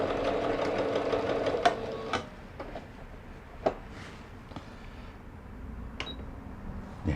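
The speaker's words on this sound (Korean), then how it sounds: "지그잭 바느질 네, 소음이 적으면서 네, 정상적으로 바느질이 됩니다" A repaired Singer 7463 sewing machine running zigzag stitches, a steady quiet whirring hum close by, broken by a few sharp clicks and knocks, with no talking.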